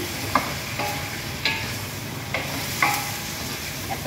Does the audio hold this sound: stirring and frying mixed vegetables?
yes